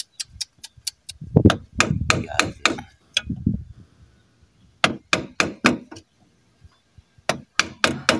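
A hammer strikes wood in quick rhythmic bursts of sharp knocks, loud and close, pausing now and then before starting another volley of blows.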